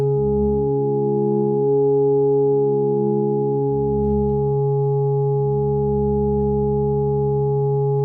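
A Modal Argon8 synthesizer holds a smooth tone while layered oscillator lines slowly sweep and morph, with low pulses fading in and out; sustained and electronic, no voices.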